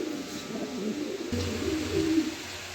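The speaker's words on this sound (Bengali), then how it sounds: "দর্শক দেখেন কবুতর কাকে বলে দেখেন দুইটা কবুতর দিলাম" A pair of pigeons kept for sale coo softly and close by in low, throaty murmurs over about three seconds, with no voices present.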